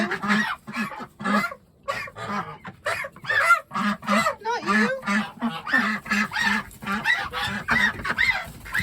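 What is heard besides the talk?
geese honking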